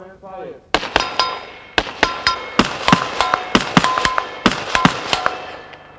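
Armor-piercing 5.56mm rounds fired at an armor plate in a weapons demonstration ring out as about a dozen sharp, loud cracks with metallic ringing, spaced irregularly over several seconds.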